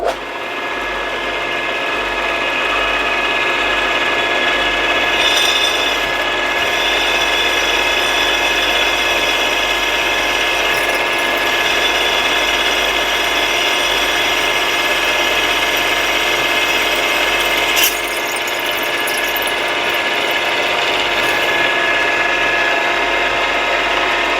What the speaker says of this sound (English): So we can drill that out.